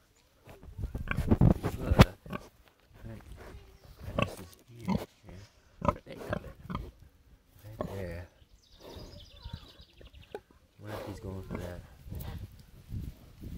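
A large feeder pig, over 500 pounds, snuffles and grunts close by in short bursts, with soft rustling around it and occasional faint voices in the background.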